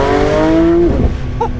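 Porsche 992 GT3 RS exhaust heard up close, a loud sustained high-revving engine note with strong tonal harmonics that drops off sharply, then a rougher burbling rumble at lower pitch.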